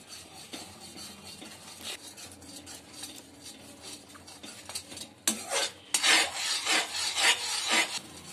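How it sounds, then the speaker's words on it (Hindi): Melted jaggery stirred in a pan over medium heat, a steady scraping and rasping of a spoon against the metal that grows louder and rougher in the final seconds, with no voices. "अब हम इसको चलाते रहेंगे 5 मिनट में"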